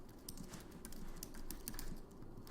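Light keyboard typing on a computer, a run of soft, quick key clicks under a steady low background hum, fairly faint and close, with no talking.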